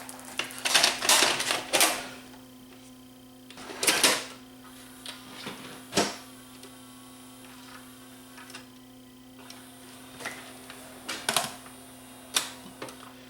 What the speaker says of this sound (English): it threaded the tape and then it proceeded to unthread the tape